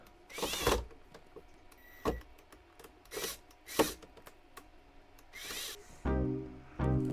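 A power drill drives screws into the bottom of a countertop ice maker panel, giving several short, faint whirring bursts spread out with quiet gaps, followed by a louder, steadier run of the drill at the end.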